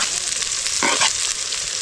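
Onions and dried red chillies hit hot oil in a pan with a loud continuous sizzle and a brief scraping stir partway through, no voices.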